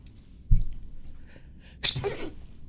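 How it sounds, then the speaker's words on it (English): A person sneezes indoors: a short burst, then a louder, fuller sneeze with a breathy tail about a second later, close to the microphone. "Sorry about that, I had to sneeze."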